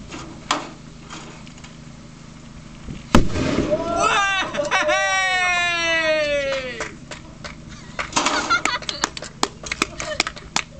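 A sharp blast from a crow scarer hits an expanding foam aerosol can, followed by a rising, whistling hiss and squeal as the can vents for a few seconds, then a scatter of loud pops and crackles outdoors.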